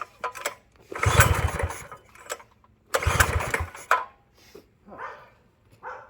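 A small engine on a Manco Dingo minibike fitted with a new carburetor runs roughly near by, sputtering in two louder bursts with quieter uneven putters between them.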